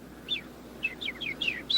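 A small bird chirps in a fast series of about six bright, high tweets, close and clear over a quiet background.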